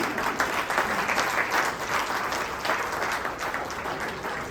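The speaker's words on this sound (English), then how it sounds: "Yes, round of applause." Steady applause from a sizable crowd, dense and even clapping that holds at a constant level throughout.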